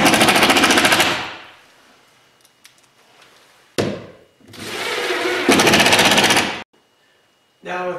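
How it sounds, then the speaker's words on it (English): A power driver runs in loud, buzzing bursts as it drives screws into a door hinge, roughly three long runs of whirring separated by quiet pauses and small clicks, ending with a short final burst. "and drive the screws"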